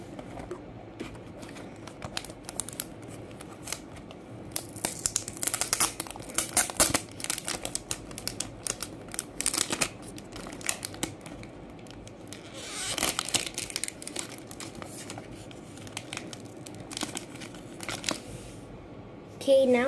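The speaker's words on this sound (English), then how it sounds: "now that I got the plastic wrap off" Plastic wrap being peeled and crinkled off a Rainbow High handbag toy, bursts of close crackling and rustling in uneven spurts with quiet pauses between.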